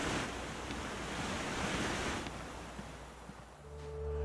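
A steady roar of rushing water from a waterfall in the game The Long Dark fills the air, then thins out near the end as a low electronic hum comes in.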